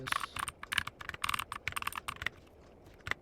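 Rapid, close keystrokes on a computer keyboard while editing JavaScript code, a busy run of crisp clicks that thins out into a few last taps, with no talking.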